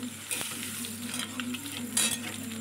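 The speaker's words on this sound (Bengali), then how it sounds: "এখানে 3-4টে শুকনো লঙ্কা দিয়ে দিয়েছি, আর কালো জিরে ফোড়ন দিয়ে দিলাম।" Dried red chillies and nigella seeds sizzle in hot mustard oil in a wok, a steady crackling fry with a brief clink and a louder spatter near the end, no voices.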